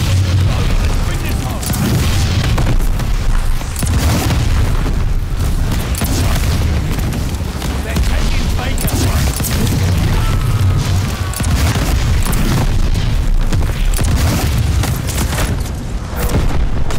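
Heavy mortar explosions keep booming in a Call of Duty: Vanguard match, dense and continuous over a low rumble, with game voices talking across them.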